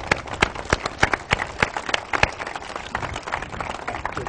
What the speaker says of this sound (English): let's give Walter a round of applause, everyone.